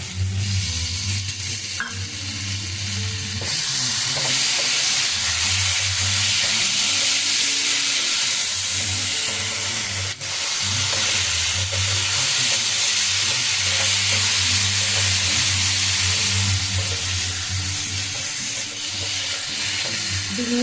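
Straw mushrooms fry in a hot pan, making a loud, dense sizzle and hiss that holds steady for the whole stretch, with a low rumbling bubbling underneath and a brief clink near the middle.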